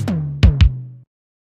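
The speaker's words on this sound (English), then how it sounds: "we'll go ahead and have the low tom hit right here" Three synthesized low tom hits with a crunchy analog-style distortion: two quick punchy strikes near the start, then a third, each with a deep booming body and a sharp attack, ringing out briefly before cutting off, with no voices.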